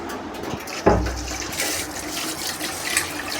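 Ration rice being washed under a running tap, a splashing rush of water into a vessel with a sudden louder gush near the start, then steady pouring and sloshing close by.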